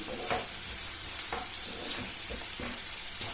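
Chopped onions frying for a bottle gourd fry, a steady sizzle in the pan broken by a few scraping stirs, close and continuous with no talk.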